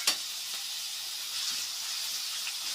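Food frying in a pan on a stove over low heat while making bottle gourd kheer, a steady soft sizzle with a faint clink at the start, fairly quiet and alone without talk.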